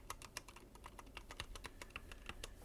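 Close, rapid typing on a regular 105-key computer keyboard, with crisp individual keystrokes clacking in an uneven rhythm, quiet and alone without speech.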